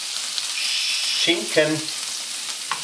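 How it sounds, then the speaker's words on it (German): Smoked tofu sizzles and fries in a hot pan for a vegan zucchini spaghetti carbonara, a steady close searing hiss with brief louder crackles as pieces settle, while a person speaks over it. "Braten wir das an, schütten den Tofu rein."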